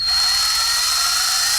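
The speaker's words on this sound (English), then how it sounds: "Is it the drill?" A drill whirring at high speed, giving a loud, steady, high-pitched whine that holds constant from start to finish with no other sounds.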